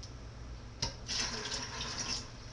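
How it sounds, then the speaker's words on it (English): Water poured into a pot holding bean soup ingredients, a steady splashing fill that starts after a brief clunk and runs on close by without talk. "So now what I do is I add 6 cups of water to all of the ingredients"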